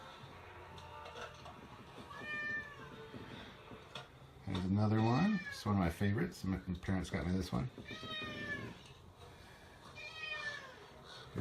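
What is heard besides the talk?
cat meowing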